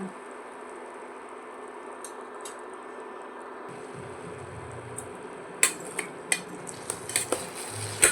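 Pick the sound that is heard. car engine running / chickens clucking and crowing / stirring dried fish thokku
stirring dried fish thokku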